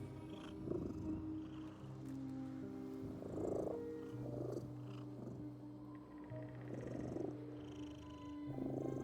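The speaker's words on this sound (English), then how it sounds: "I'm hearing this purring and wondering where the hell it's coming from, and oh, the cat's here." A cat in the video game The Midnight Walk purrs softly and rhythmically, each breath rising into a rumbling swell against a quiet, moody background, no talking.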